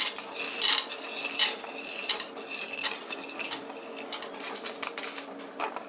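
Coriander seeds and pepper tipped into a hot kadai for garlic rasam: a close, rattling patter of small seeds on metal with a couple of louder clinks early on, then lighter scattered ticks and faint stirring.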